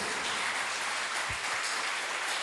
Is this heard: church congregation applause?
yes